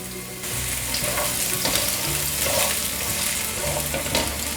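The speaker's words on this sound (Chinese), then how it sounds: "锅内放入少许油，油热了放入姜片，把姜片煸香，把红萝卜放进来" Ginger slices and carrot stir-frying in a little hot oil in a wok, a steady loud sizzle with faint scraping of stirring, no talk.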